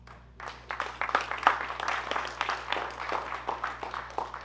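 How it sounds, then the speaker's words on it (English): Hackathon attendees give a modest round of applause after lightning talks in a room, scattered hand claps swelling in after a quiet start and continuing at moderate, fairly close level. "Give all of yourselves a big round of applause."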